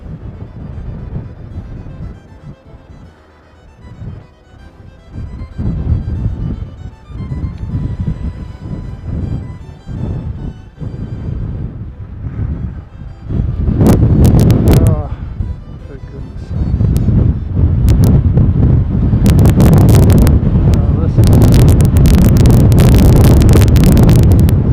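Strong wind buffets the microphone at an outdoor aircraft-spotting spot at Christchurch airport, roaring loud and continuous and swelling into heavier gusts toward the end, with no voice in the clip.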